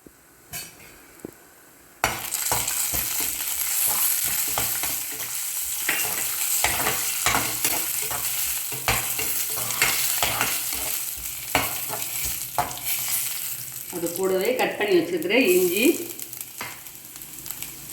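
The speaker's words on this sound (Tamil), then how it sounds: "எண்ணெய் காஞ்சிருச்சு இதில் முந்திரி பொட்டு போட்டு வறுத்து எடுத்துக்கலாம்" Steady loud sizzling of cashews frying in hot oil, with a spoon scraping and stirring the pan throughout and a clatter near the end.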